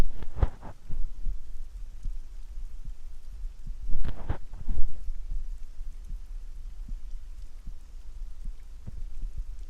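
Soft, muffled heartbeat thumps pulse irregularly over a low rumbling bed in a quiet whispered ASMR setting, with a few stronger beats clustered early and midway.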